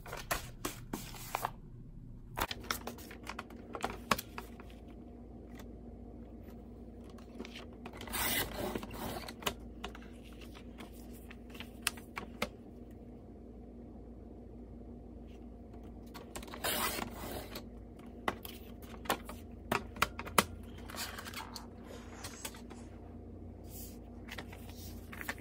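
Paper being cut down to planner page size, a quiet and intermittent run of soft scraping and rubbing bursts with pauses between them, close to the listener and with no speech.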